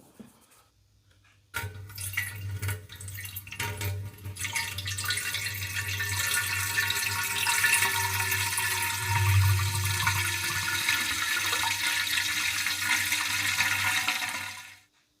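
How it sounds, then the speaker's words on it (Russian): Petrol poured into a Yamaha Jog scooter's fuel system, starting with quiet dripping, then a steady loud liquid rush with a low hum that runs on for about twelve seconds before cutting off. "залью чуть-чуть бензина"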